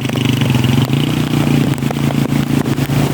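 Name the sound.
motorcycle engine in floodwater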